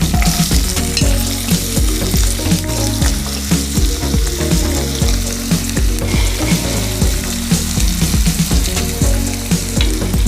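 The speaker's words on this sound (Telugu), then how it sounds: "ఉల్లిపాయ వేస్తున్నా అండి." Onion frying in a hot pan with a steady, loud sizzle and crackle that runs continuously and close up, with faint stirring clatter now and then and no talking.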